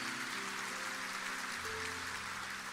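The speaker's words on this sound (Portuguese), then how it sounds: "Você pode ficar de pé e aplaudir o nome de Jesus." A church congregation stands and applauds during a service, a soft, continuous wash of clapping heard at a distance over sustained low keyboard tones.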